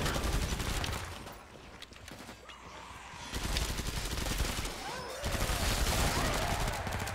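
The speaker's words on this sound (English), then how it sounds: "It's a machine gun, though" Rapid machine gun fire in the co-op shooter Killing Floor 2, dense bursts crackling loudly, easing off briefly in the middle and then resuming.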